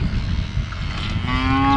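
A cow lets out a long, loud, close moo that rises in pitch toward the end, on a farm where thirsty cattle are being watered.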